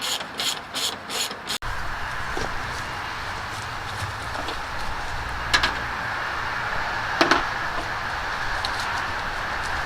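A ratchet wrench tightens bolts during maintenance on a 1967 Buick and 1976 Ford, starting with a few quick clicking pulls, then a sustained grinding, rasping mechanical noise with occasional sharp knocks, close and loud.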